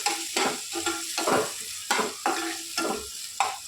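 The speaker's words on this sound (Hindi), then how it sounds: "टमाटर को अच्छा 1-2 मिनट के लिए पका के देंगे, इसको सॉफ्ट करेंगे, टमाटर अच्छे से पक जाए।" Tomatoes cook in a hot pan for a drumstick curry, sizzling steadily while a spoon stirs them in repeated scraping strokes at close range, with no talking.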